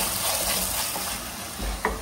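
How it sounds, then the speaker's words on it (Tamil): Onion and ginger garlic paste frying in a pan, a continuous close hiss with soft stirring scrapes and a small clink near the end, no talking. "கொஞ்சமா இஞ்சி பூண்டு பேஸ்ட் எடுத்து இது இன்னும் நல்லா வதக்கிடலாம்."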